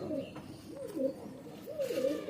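A pigeon coos softly in two rolling, throaty phrases, fairly quiet against a faint background.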